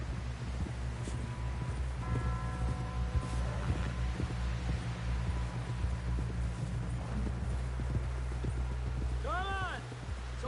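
Horse hooves clip-clop steadily at a trot in Red Dead Redemption 2, a rhythmic thudding under in-game voices talking, with a brief whinny-like sound near the end.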